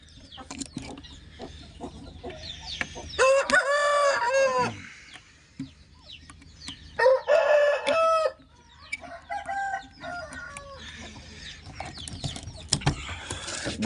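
Roosters crow in two loud bursts, with another fainter crow later, amid scattered clucks and farmyard noises between the calls.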